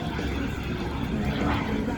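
A mini jet flies at the 2023 Cleveland Airshow, its engine a steady, loud, broadband roar that holds without letup.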